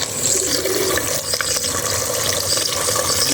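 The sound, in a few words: water from a water tap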